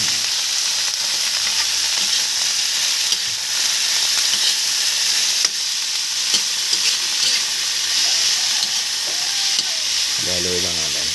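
Bitter gourd (ampalaya) sautéing in a pan: a loud, constant sizzle close by, with light stirring noises mixed in and a short tonal sound near the end.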